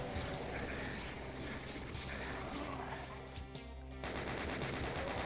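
A chaingunner enemy firing in the Doom map Blood Drive, rapid automatic gunfire rattling continuously for several seconds amid other game noise, swelling louder near the end.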